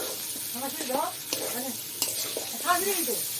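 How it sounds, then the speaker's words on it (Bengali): Meat fries in a pot with potatoes, tomato, ginger and garlic, giving a steady nearby sizzle with stirring knocks while faint voices murmur underneath. "মাংস দিয়ে আলু দিয়ে টমেটো আদা রসুন দিয়ে সব একসাথে করতে দিচ্ছি।"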